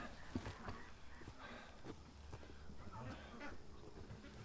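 Ducks being fed call in a group from a modest distance, with scattered honks and quacks over a low, steady background and some quiet talk mixed in.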